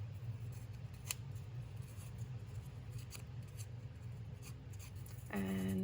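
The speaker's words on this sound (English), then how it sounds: "I'm going to cut it horribly, and I might tear it up a little bit more here, fray the edges some." Scissors snip through a fabric scrap cut from a necktie, with scratchy rubbing as its edges are frayed for a journal, close and steady with no talking.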